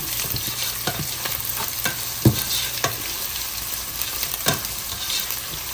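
Steady sizzle of crushed ginger and garlic frying in a pan, with occasional scraping and stirring clicks, close and fairly loud, no voices.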